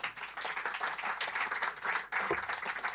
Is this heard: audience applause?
yes